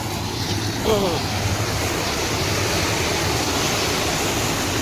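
Steady, loud rush of water flowing over rocks near a Shiva temple, a continuous broadband roar that masks nearly everything else.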